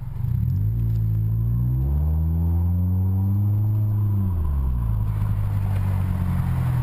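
A 2008 Scion xB pulls away from a stoplight in manual sport mode. Its engine drone climbs steadily in pitch, drops at a gearshift near the four-second mark, then builds again, loud and close from inside the cabin with no talking.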